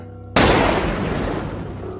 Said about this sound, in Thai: เสียงปืนแก๊ปคาบศิลาในมือของพานสิงห์แผดเสียงดังขึ้นอีกครั้ง